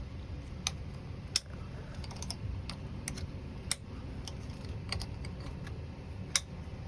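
Plastic cover clips snap into place on a 2017 Yamaha VX Cruiser jet ski as a series of sparse, sharp little clicks over a faint low background hum, with no talking.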